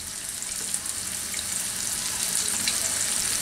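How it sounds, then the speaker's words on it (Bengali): Chopped onion and a little minced garlic fry in a pan with a steady, close, broadband sizzle that stays even throughout, with no voices. "এইগুলাকে একটু ভেজে নিতে হবে।"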